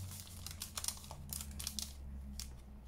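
Paper from a junk mail window envelope being folded down by hand, producing soft close crinkles and creases over a low steady background hum.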